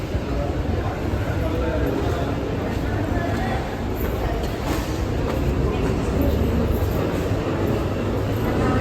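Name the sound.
train at Aluva railway station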